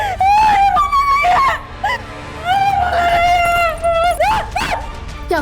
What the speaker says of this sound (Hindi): क्यों चिल्ला रही इतनी जोर जोर से?